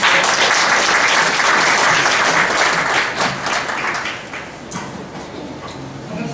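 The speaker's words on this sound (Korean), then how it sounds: "박수로 환영해주십시오." Audience applause welcoming a speaker at a 2014 alumni gathering, a dense, steady clapping that fills the room and gradually thins and fades toward the end.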